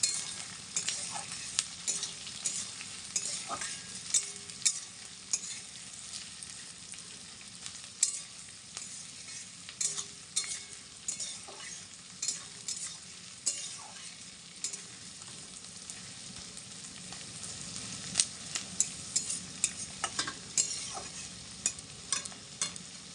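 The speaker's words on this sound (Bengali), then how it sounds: "এখন আমি এটাকে ভালো করে ভেজে নেবো পেঁয়াজটা লাল লাল করে" Onions fry in hot oil until reddish brown, with a steady close sizzle and intermittent scraping clinks of a spoon stirring the pan.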